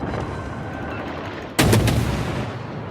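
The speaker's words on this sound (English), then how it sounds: "We might take some secondary fire." Secondary guns on a ship fire in the World of Warships video game, a sudden loud volley of several rapid booms breaking over a steady background rumble, then a lingering roar with no talking.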